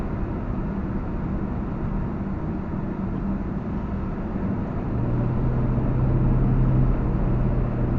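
A Mercedes W126 driving in the evening, a steady low engine and road drone heard from inside the cabin, even and continuous with a slight rise in the low rumble toward the end, no voices.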